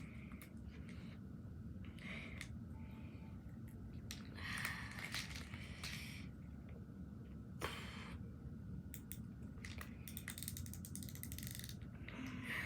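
A fishing reel's drag being loosened, its ratchet giving off rapid, steady clicking through the whole stretch, with brief louder bursts of rattling noise, close by and with no talk.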